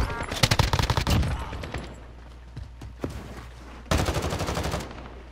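A decoy grenade in a video game mimics gunfire. Two loud bursts of rapid, rattling shots sound close by, separated by a short quieter gap with scattered faint pops.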